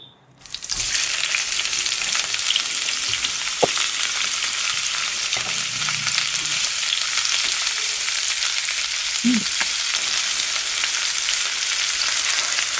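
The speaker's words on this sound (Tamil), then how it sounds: "இப்போ எண்ணெய் நல்லா சூடாயிட்டு இதில் முட்டையை ஊற்றி பொரிச்செடுத்துருவான்" Egg frying in hot coconut oil in a pan, a steady, loud broadband sizzle that fills the whole stretch after a sudden start, with a few faint clinks and bubbling pops underneath.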